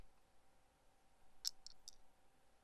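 Dice rolling in a quiet close-up setting, a few faint, crisp clicks in quick succession.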